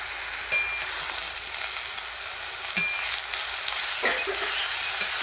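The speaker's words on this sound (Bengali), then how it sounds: "5 মিশালি শাক। সেটা ভাজা করছি।" Mixed leafy greens fry in a pan with a steady hissing sizzle, broken by a few scattered spatula clinks and scrapes, close and moderately loud, without any talk.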